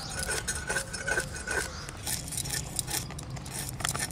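Scales being scraped off a small yellow koi fish with a knife, a run of quick rasping strokes and clinks repeating close up, with no talk.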